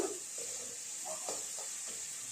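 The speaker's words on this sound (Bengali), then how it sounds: "নুন দেওয়ার পর ভালো করে নেড়ে চেড়ে ভেজে নেবো একটু লাল লাল করে" Salted flattened rice (poha) frying in a pan, a steady bright sizzle running throughout with several soft scraping strokes of stirring at irregular intervals, fairly close and moderately quiet.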